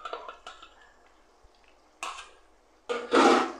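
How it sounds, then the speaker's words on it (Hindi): Goat brain broken up with a utensil in frying masala: a few soft clinks and scrapes against the pan, then a louder sizzling, scraping burst near the end, close by with no talk. "इसको हम यहाँ जो है ऐसे तोड़ लेंगे ताकि ये इस मसाले में अच्छे से भुन जाए"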